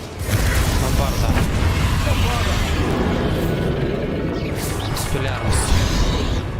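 A Bombarda spell explosion in the video game Hogwarts Legacy, heard as a loud, dense rumbling blast that stays thick and crashing throughout, with a voice speaking over it.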